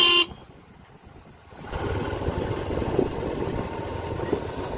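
A motorcycle on a mountain road between Gangtok and Nathula in Sikkim: a loud burst at the start drops away, then a steady engine rumble rises and holds close by until the end.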